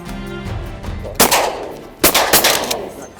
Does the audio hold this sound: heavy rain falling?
no